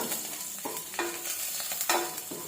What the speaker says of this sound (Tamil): இந்த பூண்டு நெய்யில் வதங்கிட்டோன்னா வாசனை நல்லா இருக்கும்.